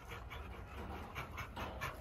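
A seven-month-old ticked merle female dog pants in quick, steady breaths close by, the huffing rhythm repeating throughout with no talking over it.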